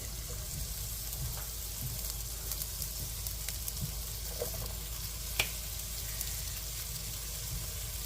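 A handful of broccoli frying in hot oil for a spicy ginger garlic stir fry, producing a steady, even sizzle with light crackles and one sharp clink midway.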